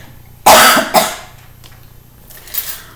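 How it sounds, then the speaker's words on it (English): A single sharp cough up close, followed quickly by a second, shorter one, then near quiet with faint room noise and a small sound at the end. "Excuse me, I have to cough."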